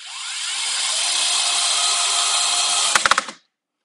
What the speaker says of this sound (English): So like with most drills, you know, it takes a second for that screw to grab